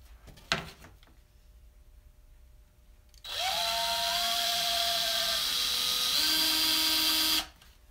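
A handheld power drill runs steadily as it drives screws into a build, a loud continuous whine with pitch shifts as the motor loads and eases, starting after a sharp knock and stopping abruptly.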